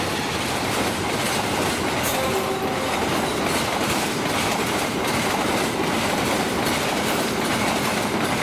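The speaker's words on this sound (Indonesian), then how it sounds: "target terakhir berarti kereta api Jayakarta 254B." Jayakarta 254B passenger train rolls through Klari station, a loud continuous rumble with rhythmic wheel clatter and a brief squeal of wheels on the rails, with no talking.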